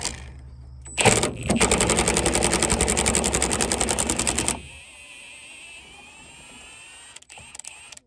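An impact gun on a low setting spins out bed bolts on a 2005-2012 Nissan Frontier. Close and loud, it gives a rapid hammering burr that lasts about three seconds and then stops, leaving quiet shop ambience with a few faint knocks.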